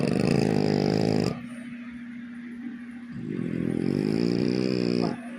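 A sleeping French Bulldog snores loudly and close, with a long rumbling snore, a quieter breathing pause, then another raspy snore and a short tail at the end.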